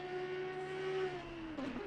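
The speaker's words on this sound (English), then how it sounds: "Tobias Gable has got this car set up to be super slippery in a straight line. Just watching him out on track right now" A race car in a racing video game at Indianapolis Motor Speedway holds a steady, droning engine note that dips slightly at the end, fairly faint and with no talking.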